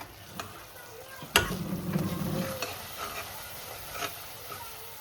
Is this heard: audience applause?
no